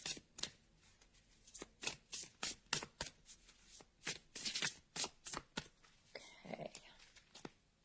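Tarot cards shuffled close up in quick, uneven riffles and soft slaps, quiet and alone, before one card is drawn.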